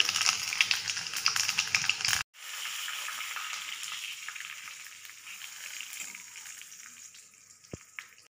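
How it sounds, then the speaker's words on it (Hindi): Steady hot-oil sizzling and crackling after a sharp drop-in splash as dried chilli pieces fry in hot mustard oil, frying continuing evenly at close range with no voices. "तेल गर्म हो चुका है तो इसमें हम सूखा मिर्च को टुकड़ों में काट के डाल देंगे"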